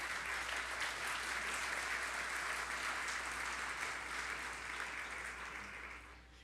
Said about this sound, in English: Please give a round of applause for Sports Graphic